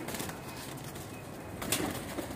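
Flying pigeons make soft bird sounds and brief wing flaps over steady background noise, with a sharper burst of flapping near the end.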